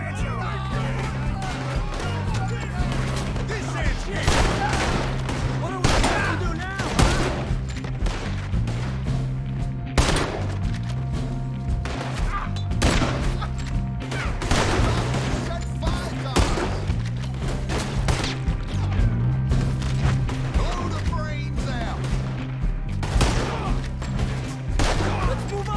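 Gunfire in a Red Dead Redemption 2 shootout, a steady run of sharp shots and thuds over a droning score, with a voice talking through much of it.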